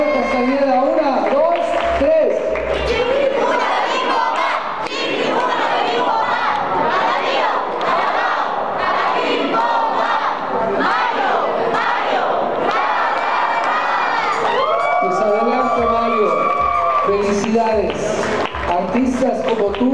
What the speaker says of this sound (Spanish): Una porra, por favor,